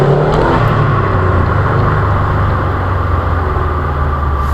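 STi-swapped Subaru Outback engine running loud and steady from inside the car, a continuous low drone with no clear rev spikes, heard alone without talk.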